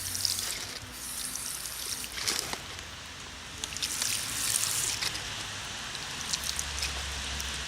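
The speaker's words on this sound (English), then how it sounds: "I'm just going to gently kind of water" Water is poured gently around a newly planted linden tree, a steady soft splashing and trickling into soil with patters and drips, close and continuous.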